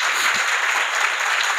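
Loud, dense applause from a church congregation fills the whole stretch, steady and continuous with no pauses, while the crowd claps together in celebration.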